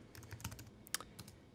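Rapid keystrokes on a computer keyboard, a short burst of irregular clicks and taps at close range with one sharper key strike near the middle, no voices over it.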